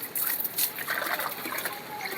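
Water splashing onto garden plants during watering, a short burst of soft irregular splatter and trickle, faint and close, without talk.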